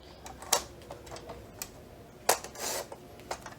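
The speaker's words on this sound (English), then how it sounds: "So I'm going to use my paper trimmer again." A paper trimmer cutting paper flaps for a DIY flap book, two sharp slicing clicks a couple of seconds apart with lighter ticks and taps between, close and quiet, no voices.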